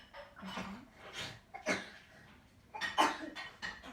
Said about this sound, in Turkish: Arkadaşlar kardeşim öksürüyor.